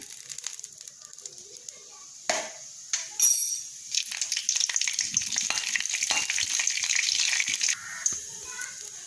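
Half a spoon of cumin seeds drops into hot oil and bursts into a crackling sizzle, starting with a few sharp pops and settling into a busy, close fizz.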